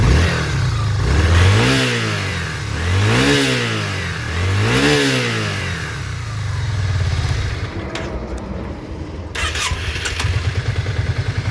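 A 2003 Yamaha Virago 535 motorcycle engine in excellent condition revs up and down three times in a row, close and loud, then settles into a rough idle with a few quick blips.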